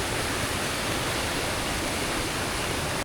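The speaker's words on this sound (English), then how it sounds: "We've got our first little pop of the river." Steady broadband rushing of a flowing river near Telluride, constant and fairly loud throughout with no pauses or voices.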